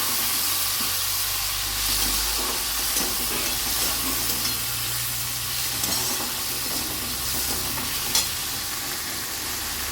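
Onions and tomatoes sautéing in oil in a pan give a continuous bright sizzle and hiss close by, with occasional stirring scrapes and a faint low hum underneath.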